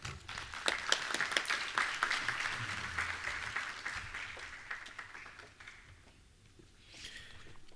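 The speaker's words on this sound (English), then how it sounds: "Give her another round of applause for me, please." Applause from a conference audience for a speaker at a maritime university industry conference, a crowd clapping steadily and then thinning out and fading toward the end.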